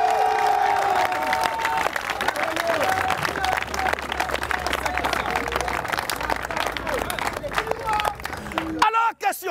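A church congregation cheers and applauds in acclaim of Jesus Christ, a dense, sustained wash of clapping and shouting voices that stops abruptly near the end.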